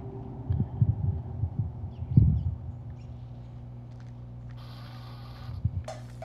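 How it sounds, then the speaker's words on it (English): A heartbeat effect in the horror game Little Hope plays as muffled, deep thumps in a few loose clusters over a low steady hum, with no voices. "I was in a heartbeat section thing"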